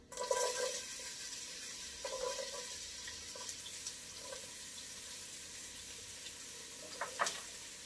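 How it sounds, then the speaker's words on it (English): Onions, celery and carrots sizzle in a pot for potato soup, a quiet steady frying hiss with a few brief clinks and stirring noises near the start and end. "Now you can hear that cooking"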